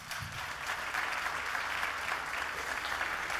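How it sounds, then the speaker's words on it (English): Audience applause at a Final Four awards ceremony, a continuous, even roar of clapping from a large crowd, fairly distant and without talk, lasting the whole short span. "please, ladies and gentlemen, a big round of applause for our four survivors."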